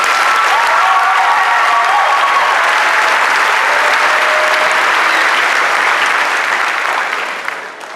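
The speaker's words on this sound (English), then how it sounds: "Can we get a big round of applause for her?" A crowd at a 2023 graduation ceremony gives a speaker a long round of applause. The sound is full, continuous and loud, then tapers slightly in the final moment.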